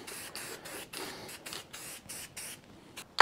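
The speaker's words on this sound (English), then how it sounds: "while I had the spray paint out, I went ahead and pulled all this back apart again and just gave everything a little spritz" Short bursts of spray paint from an aerosol can coat disassembled steering column parts for a custom steering build on a cab-over motorhome, several close hissy spritzes in a steady rhythm, ending with a sharp knock.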